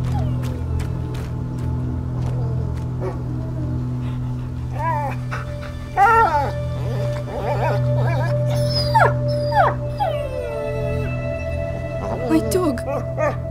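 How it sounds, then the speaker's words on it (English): In A Plague Tale: Innocence, a wounded dog whimpers and lets out thin, wavering howls and yelps, broken into short cries over a low droning background, while voices speak nearby. "My dog!"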